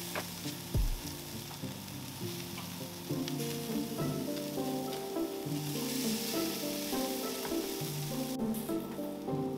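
Burgers sizzling and frying on a cooking surface, a steady close hiss that thickens partway through and runs continuously, with occasional faint clinks and no voices.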